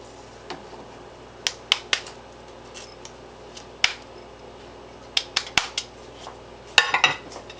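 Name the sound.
mixing tomato and spices for harira soup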